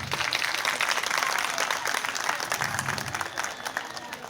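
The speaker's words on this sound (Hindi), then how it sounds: "पेरेंट्स की तरफ से कितनी जोरदार तालियां होनी चाहिए" Parents at a school annual day burst into strong, sustained applause, a thick crowd of clapping hands holding steady for the whole stretch.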